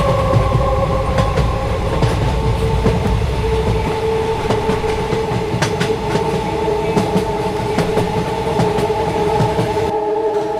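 Train rolling along the rails, a loud steady rumble inside the carriage with rhythmic clickety-clack beats over the wheels and a constant tonal hum, dropping off abruptly near the end.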